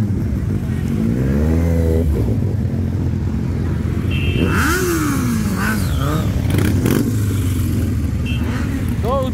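Motorcycle engines rev and rumble at a motorcycle event in Liptovský Mikuláš, a loud, continuous low roar with rising throttle sweeps, heard close by under ongoing conversation.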